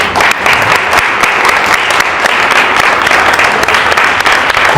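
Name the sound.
audience round of applause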